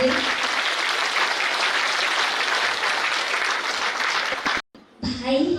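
Loud, dense applause from a crowd at a New Year celebration at the Shanti Shakti Sarovar retreat centre in Bhagwanpur, Bihar, sustained evenly for several seconds before cutting off abruptly, followed by a brief voice.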